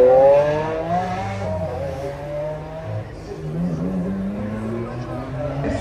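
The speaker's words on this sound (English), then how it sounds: "I've picked a Lamborghini Aventador with its mighty V12." A Lamborghini Aventador V12 at the Canberra Festival of Speed 2024 revs loudly, its pitch sweeping up and falling back several times in close, continuous bursts.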